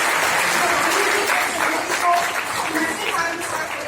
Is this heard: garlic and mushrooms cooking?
no